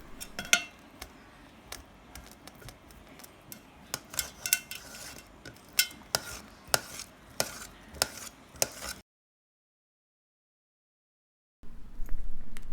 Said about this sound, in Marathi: इथे आता मी बटाटे कापून घेते.